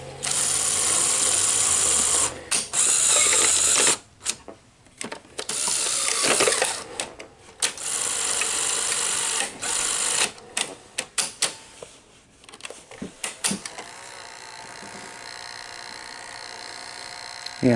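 A faulty Sony SL-HF900 cassette deck mechanism runs with loud, irregular clattering and whirring that cuts in and out in bursts, with no talking.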